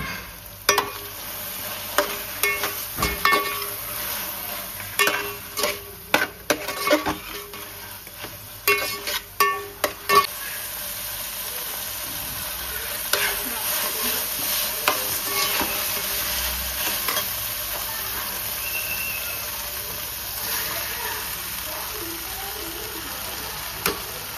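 Vegetables and rice for a veg pulao being stirred and mixed in a pan, with a burst of close, uneven scraping and clatter strokes early on, then a steady soft sizzle carrying on alone.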